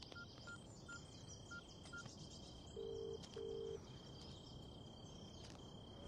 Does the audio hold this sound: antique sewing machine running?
no